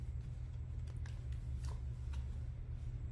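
Soft riffling and faint ticks of cards being shuffled, quiet against a low background hum, with no talking.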